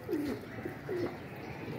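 Pigeons coo in a low, soft rising-falling call twice during a bird-catching outing, heard against a steady outdoor background hum with no talking.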